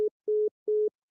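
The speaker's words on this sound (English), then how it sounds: "Your phone disconnected." Three short beeps of a phone call-ended tone, evenly spaced and steady-pitched, each about a fifth of a second, sounding alone with no talk.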